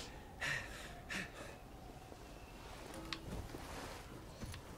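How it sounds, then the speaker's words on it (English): A skier character in the video game Steep pants and gasps in a couple of short breathy bursts, faint beneath a steady rushing wind and snow noise. "Without the music, you can really hear him panting and getting hit by trees."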